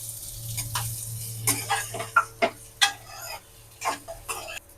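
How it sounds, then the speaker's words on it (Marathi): Onion, cumin and spices roasting in a pan for a Maharashtrian shev bhaji, with quiet sizzling under repeated scraping and stirring strokes of a spoon at an uneven pace, fairly close and soft. "कांदा पण असा लालसर होईपर्यंत आपण भाजून घेऊया"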